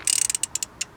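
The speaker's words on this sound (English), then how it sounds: "So let's go get my wrench and start taking this off. Put our 10mm on there" A ratchet wrench with a 10mm socket loosens bolts on the thermostat housing of a 2003 Toyota Camry XLE, making a quick run of close, sharp clicks that thin out into a few spaced clicks.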